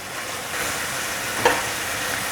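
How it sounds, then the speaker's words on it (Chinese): Carrots and ginger slices sizzle steadily in a hot wok as they are stir-fried, with one brief louder spatter midway and no talking. "快速翻炒一下。"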